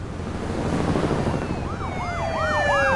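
SWAT car sirens in The Walking Dead video game wail in rising and falling cycles over traffic rumble, growing louder and nearer toward the end.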